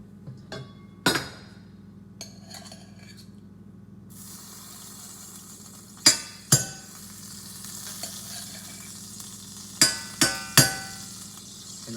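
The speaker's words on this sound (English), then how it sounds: "I've got to add my grease because the pan is smoldering" Leftover ground-beef grease hits a smoldering hot pan. It starts quiet, then bursts into a continuous loud sizzle, with several sharp metallic clinks and knocks of a utensil against the pan scattered over it.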